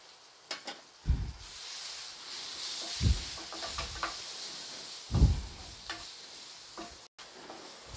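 Ground spices frying in oil in a pan for karunai kizhangu (elephant yam) tamarind kuzhambu, a steady faint sizzle with a few louder stirring scrapes and knocks spaced several seconds apart.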